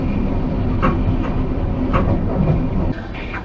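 The 15959 Kamrup Express running into Malda, a steady loud rumble of wheels and carriages, with rhythmic clacks recurring and a brief drop in level near the end.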